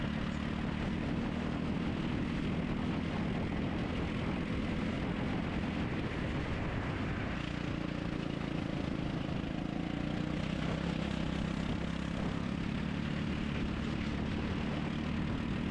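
Racing kart engine accelerating hard out of the pit lane at a karting event, a loud continuous droning roar held close and steady throughout.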